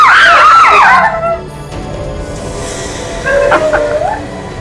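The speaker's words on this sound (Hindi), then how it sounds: "इन लोगों की चीखें सुनी आपने?" A shrill, wavering scream rings out, then fades. After a short lull, a second, briefer cry follows.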